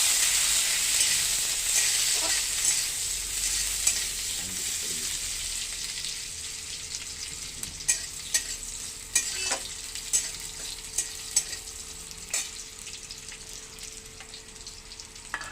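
Steady sizzling of onions frying in a pan, with sharp crackles and pops growing more frequent toward the end, close by and without voices.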